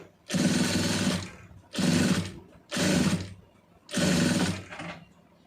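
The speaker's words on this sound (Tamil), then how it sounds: "அப்படியே சுற்றி ஃபுல்லாக தையல் ஓட்டிடுங்க துணி எடுத்துடாமல்" A sewing machine stitches fabric in four loud, close bursts of rapid mechanical whirring, each about a second long, separated by short pauses.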